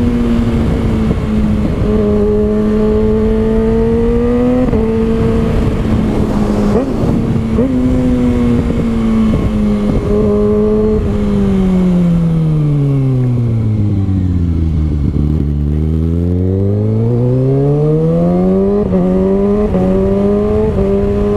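Kawasaki ZX6R motorcycle with an open exhaust revving loudly and continuously up and down through the gears, with sharp pops and crackles as it shifts, heard close and alone.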